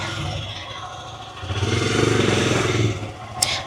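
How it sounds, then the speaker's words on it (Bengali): A Royal Enfield motorcycle being parked below a homestay, its engine rumbling steadily at close range with some clatter and scraping, swelling in the middle and easing off near the end. "ওই যে বাইকটা পার্ক করছে।"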